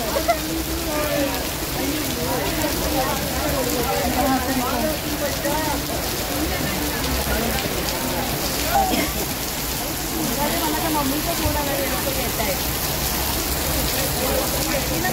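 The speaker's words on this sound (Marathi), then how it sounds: "पावसात अडकलोय आणि एवढा जोरात पाऊस येतोय" Heavy rain pours in a continuous hiss and patter in Dadar, Mumbai, while people talk underneath throughout.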